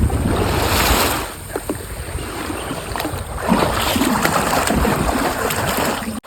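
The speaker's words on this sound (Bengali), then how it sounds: "তোমরা দুজন মিলে কিন্তু নৌকা নামিয়ে নিয়েছি" A fishing boat is launched into a Sundarbans pond, with splashing, sloshing water and gusts of wind rushing around it. The sound is a loud, continuous wash that eases briefly midway.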